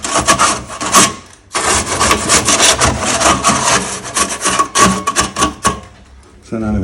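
A trowel scrapes and trims excess wet plaster off a wall in long continuous rasping strokes, loud and close, with a brief pause and a final stroke.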